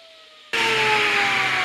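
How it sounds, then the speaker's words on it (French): Table saw cutting a wooden board on a crosscut sled, starting abruptly after a quiet moment as a loud, steady high whine with a dense rasping tone that holds to the end. "Donc j'utilise mon traîneau et je fais ma coupe."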